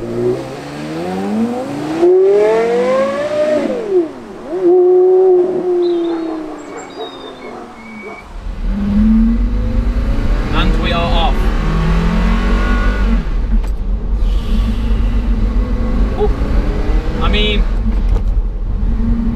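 A 2017 Porsche Carrera GT engine rises and falls in pitch as it revs, then settles into a louder, steady rumble with rising and falling tones as the car sets off and drives.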